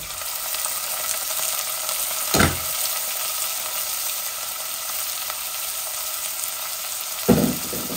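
Onions dropped into hot oil with browned garlic and ginger in a pan, a steady close sizzle with two sharp bursts of frying as ingredients hit the oil.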